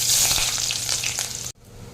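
Onions fry in white oil and ghee in a kadai for egg rezala, a loud, dense sizzle with crackling and stirring that suddenly drops to a much quieter hiss near the end.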